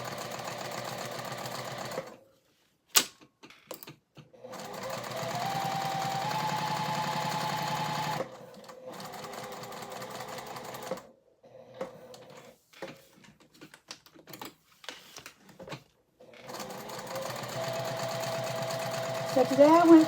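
A home sewing machine stitches fabric for a garment in short whirring bursts separated by pauses, each run steady and fairly close, with a voice occasionally talking in the gaps.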